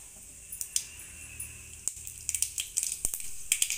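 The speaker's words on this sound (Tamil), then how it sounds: "கடுகு பொரிஞ்சிச்சு" Mustard seeds popping in about two spoons of hot oil in a kadai for tempering, sharp irregular crackles that grow denser toward the end over a low sizzle.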